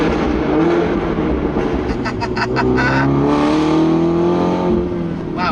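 A car engine roars loudly and steadily inside a tunnel, heard through an open passenger window, its revving tone echoing with a hollow, enclosed resonance, then easing slightly near the end.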